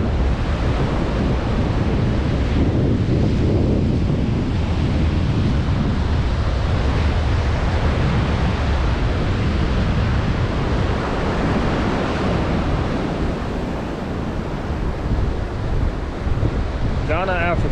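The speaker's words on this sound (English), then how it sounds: "Ghana, Africa. Atlantic Ocean." Atlantic Ocean surf rolls onto the coast of Ghana with a loud, continuous wash of waves, heavy wind buffeting the microphone throughout and easing slightly toward the end.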